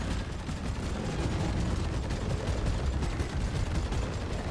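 Sustained rapid fire from the Thunderhead autocannon in Deep Rock Galactic, a dense continuous roar of heavy thudding shots with no pauses, loud and close throughout.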